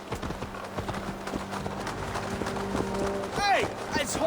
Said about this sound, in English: Hey! It's horses!